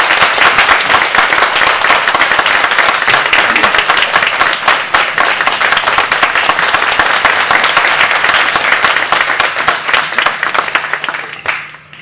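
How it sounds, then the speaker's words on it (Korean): Sustained applause from a seated audience at a talk on whistleblowing, the public's right to know and judicial justice, welcoming Justice Party co-leader Roh Hoe-chan to the stage; dense, steady clapping fills twelve seconds before fading out abruptly. "다 함께 박수로 맞아주십시오."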